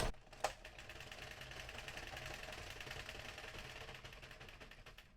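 An Addi or Sentro plastic knitting machine is cranked around with no yarn fed in, giving a quiet, rapid, even mechanical clicking rattle after an initial clack.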